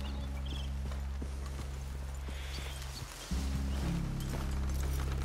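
Horses walking in Red Dead Redemption 2, hooves clip-clopping at a steady, unhurried pace over a constant low rumble of ambient game sound.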